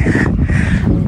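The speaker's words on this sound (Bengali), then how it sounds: "এখানে পাখিদের কিচিরমিচির আওয়াজ" A crow gives a loud, close, harsh caw or two on a riverside char by the Padma, a broad scratchy call that fills the whole short moment.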